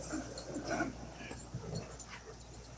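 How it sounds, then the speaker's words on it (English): Dogs yelping, whimpering and whining at one another in short, overlapping bursts, fairly close and moderately loud, with some faint background voice. "you gotta get the dogs to stop screaming at each other!"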